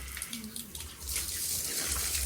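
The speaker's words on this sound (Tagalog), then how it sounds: "Ang lakas ng tubig niya yun eh." Strong water gushes from a tap in a steady, loud hiss, running continuously at close range with a brief dip before it surges again.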